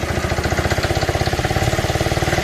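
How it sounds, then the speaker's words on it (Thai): A Yanmar single-cylinder 4 hp diesel engine on a mortar pump idles close by with a fast, even chugging pulse, loud and steady throughout with no talking. "เป็นเครื่องยนต์ดีเซลสูบเดียว"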